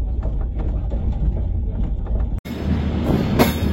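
Mithila Express rolling into Raxaul Junction, a steady rumble and rattle of carriages with a brief break, then louder clanking and screeching of the wheels heard from onboard.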